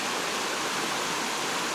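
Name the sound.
stream flowing by a hiking trail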